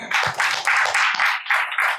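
An audience claps steadily at a Hindi poetry gathering, with close, crisp applause in short rhythmic waves, heard on its own without speech.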